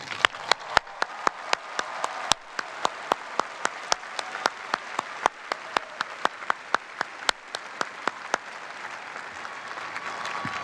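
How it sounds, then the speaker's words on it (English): Audience applause at a university commencement ceremony comes as sparse, distinct claps from scattered hands over a soft wash of crowd clapping, steady for about ten seconds. "Please join me in applauding these talented young people."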